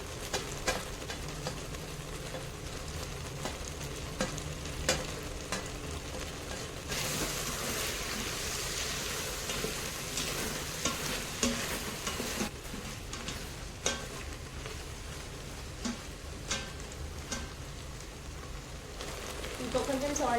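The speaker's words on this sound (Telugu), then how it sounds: "సో రిమైనింగ్ వెజ్జెస్ కూడా యాడ్ చేసుకుంటున్నాను" Vegetables, beans, carrot, green peas and cauliflower, stirred in an Agaro electric pressure cooker, giving a steady sizzling, scraping stir that runs continuously at close range for the whole stretch.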